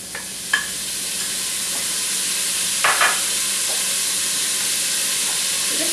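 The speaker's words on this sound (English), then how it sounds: "We're just going to saute these up until the prosciutto is nice and crispy and the red onion is cooked tender." Diced prosciutto and red onion sauté in a hot pan with a steady, bright sizzle and hiss, broken by a few brief stirring clinks and pops, close and without talk.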